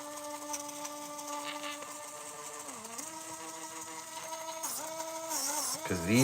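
Six small 300 RPM DC motors run together on a DIY ESP32 RC receiver build, giving a steady layered whine with pitch dips as the speed shifts, close and moderately loud.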